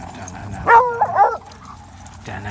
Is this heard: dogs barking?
yes